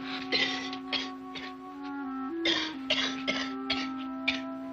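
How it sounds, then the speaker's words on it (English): A woman coughs repeatedly in small hacking fits, fairly close, while a faint steady tone and background hum continue underneath. "She's been coughing like that ever since last night"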